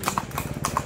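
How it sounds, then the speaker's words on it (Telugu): A horse-drawn cart's hooves clip-clop on a Mumbai street, several crisp quick hoof strikes in an uneven trotting rhythm, close and clear, heard alone. "గుర్రపు బండి కూడా ఉన్నది."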